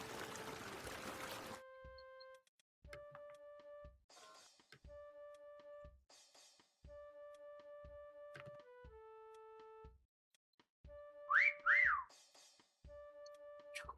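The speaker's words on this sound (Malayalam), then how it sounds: "ഇവിടെ താണല്ലോ വിസിൽ വന്നത്" Whistle tones in the Chameleon hide-and-seek video game: a series of steady, clear whistled notes repeating at intervals, with a brief rising-and-falling whistle near the end and short bursts of other game sounds between them.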